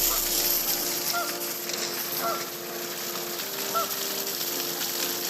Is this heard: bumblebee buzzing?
no